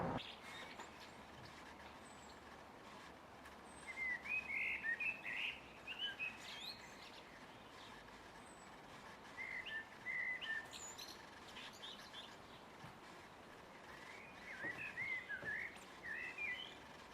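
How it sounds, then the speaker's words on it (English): A blackbird sings from a rooftop in faint, scattered bursts of chirping phrases that return every few seconds over quiet outdoor background hiss, with no voices. "Can you hear the blackbird singing?"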